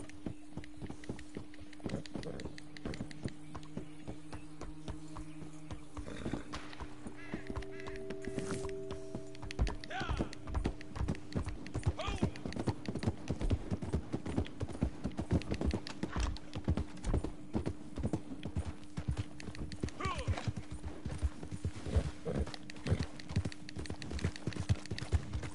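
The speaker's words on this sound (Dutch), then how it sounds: "Daar rent er eens met zijn paard, die komt jouw kant op, denk ik." A horse's hooves clip-clop in a quick, rapid rhythm in the video game Red Dead Redemption, hoofbeats steady over low tonal game sounds throughout.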